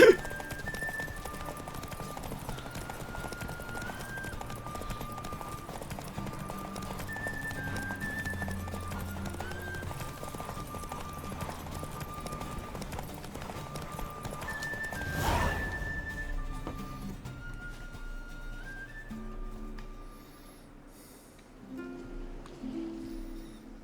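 Horse galloping in The Witcher 3, a steady rhythmic clip-clop of hooves running continuously under game music, with a brief loud burst midway and a short whinny-like sound.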